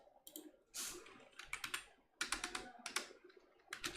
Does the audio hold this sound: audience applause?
no